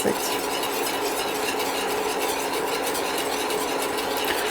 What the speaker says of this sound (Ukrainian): При постійному інтенсивному помішуванні доводимо до кипіння та проварюємо після закипання секунд 15.